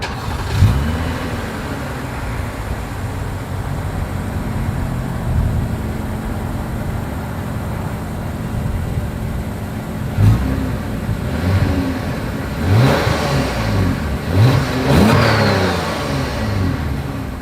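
Engine of a 2023 Lexus ES 350 with dual exhaust starts and idles, then revs in several sharp, loud bursts near the car, each climbing and falling back to a steady idle.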